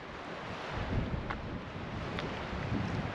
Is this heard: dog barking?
no